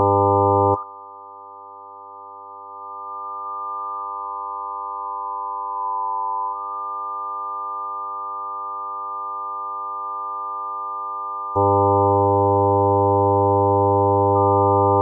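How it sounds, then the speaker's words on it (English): A steady harmonic-rich synthetic tone sounds while a bandpass EQ filter sweeps across it, the level dipping and then swelling to a loud ringing as the filter approaches a harmonic, held and buzzy with no voice. "as I approach a harmonic, you can distinctly hear a ringing sound"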